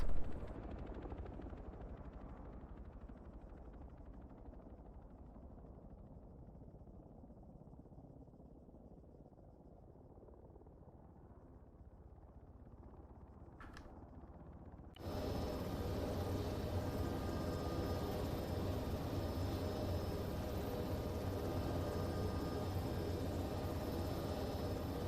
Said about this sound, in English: The helicopter turning.